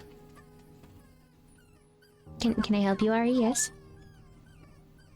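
Short whiny dog whimper with rising, wavering yips, lasting about a second, loud against quiet room noise, with someone talking around it.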